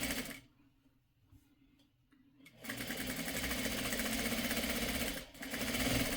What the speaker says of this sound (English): chain sew. Just go on to the next one. Sew the next one on here.